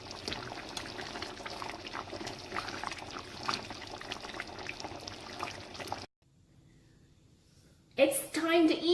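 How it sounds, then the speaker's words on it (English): Braising liquid from Korean-style short ribs is poured over rice with a continuous liquid pour and trickle, a voice talking over it, then a brief quiet gap. "Pour this over rice, and it's an awesome comfort food."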